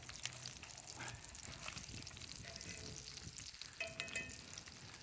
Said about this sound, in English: Then you just let her continue cooking like that until it gets brown, till it crisps up.